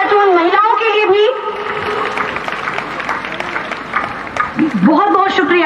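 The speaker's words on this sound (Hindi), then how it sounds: "जोरदार तालियों से हमारे मुख्य अतिथि का स्वागत करें" Loud applause from a parade-ground crowd welcoming the chief guest at a Bihar armed police passing-out parade in Patna, sustained broadband clapping with a voice over a loudspeaker at the start and end.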